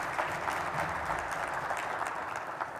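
An audience at a business presentation on digital plant transformation claps, moderately quiet and steady, for the whole short stretch with no voices.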